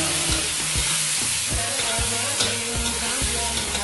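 Shrimp frying in a pan with chicken, stirred steadily, giving a continuous sizzle with regular scraping strokes of the spoon against the pan, close and moderately loud.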